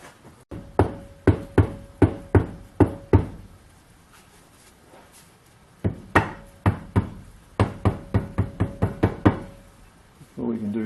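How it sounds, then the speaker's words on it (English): A rubber mallet knocks the spindle out of an early Schaublin 102 flat belt lathe headstock in two runs of steady, fairly loud blows, each a sharp thud with a short ring, separated by a quiet pause. "Now the spindle should knock out."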